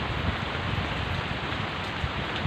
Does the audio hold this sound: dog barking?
no